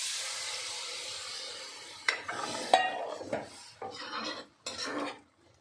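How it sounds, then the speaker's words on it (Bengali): Water poured into a hot pan of okra and potato curry with cooked-down spices: a soft hiss fades, then several short bursts of splashing and bubbling noise with brief quiet gaps, heard close and without talk. "এবার আমি পরিমাণ মতো জল দেবো।"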